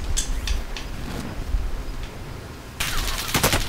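Bursts of video game gunfire in the mobile shooter Rebirth, several quick volleys of shots near the start and a louder, dense rattle of rapid fire toward the end, over a steady low background hum.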